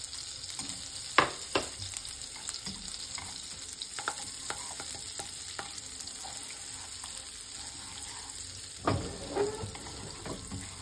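Garlic sizzling in butter in a frying pan for steak, a steady crackling fry with occasional stirring clinks and scrapes, close and alone with no talk.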